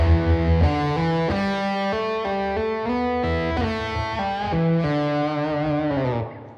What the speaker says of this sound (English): So now that whole riff slowed down.